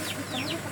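Short clucking from a chicken, a few soft rising calls close by, with faint background noise and no speech.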